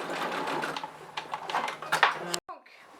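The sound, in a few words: sewing machine topstitching fabric for a vanity bag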